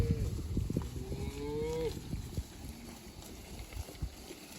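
Cattle low on a pasture: a drawn-out moo of about a second rises early on, with a softer call after, over faint scuffling and outdoor background noise.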